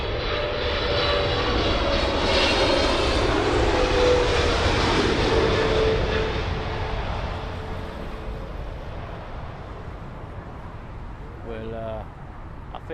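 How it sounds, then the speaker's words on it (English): A Boeing 777 from San Francisco landing at Heathrow on runway 27L, its loud jet roar building then slowly fading and trailing off as it passes, with a voice talking briefly near the end. "there's your 777 then from San Fran"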